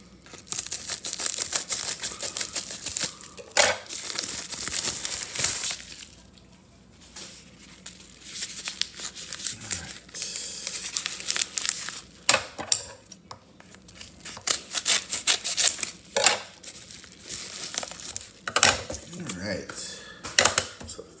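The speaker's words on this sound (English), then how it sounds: "let's rip these open and see what we got" Paper and plastic mail packages being ripped open and crumpled, with sharp intermittent tearing and crinkling bursts close by, between quieter pauses and faint rustles.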